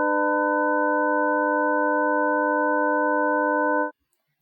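Two steady synthesized sine tones sounding together as a major sixth interval, like wooden open organ pipes, held clean and loud for about four seconds before stopping abruptly.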